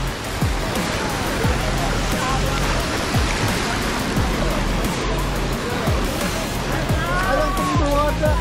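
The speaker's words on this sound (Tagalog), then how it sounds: "Lumaki alon dito." Ocean surf swelling and crashing against shoreline rocks at Avoca during rock fishing, a continuous loud wash of water with surges, heard under voices.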